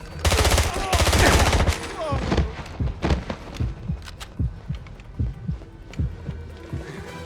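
Gunfire in the James Bond 007: Blood Stone video game: a loud burst of rapid automatic fire at the start, followed by a series of separate, punchy shots spaced irregularly, close and prominent.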